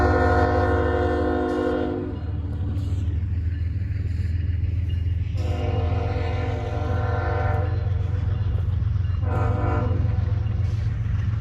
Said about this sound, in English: The next action we got was a zipper meet between Coke Train B157 and Manifest M560.